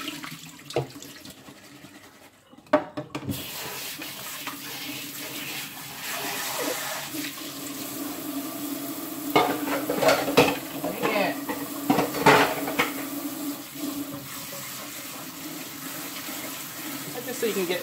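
Squash seeds being rinsed in water through a colander in a kitchen, with running tap water, sloshing and light clattering of a dish, continuous and fairly close, with brief louder splashes midway.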